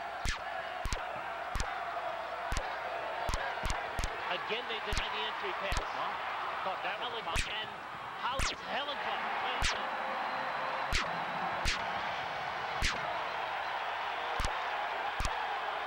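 A home crowd cheers loudly at a college basketball game, Illinois State visiting UNI. The steady roar fills the arena, sharp ball bounces cut through it, and a commentator talks over the noise.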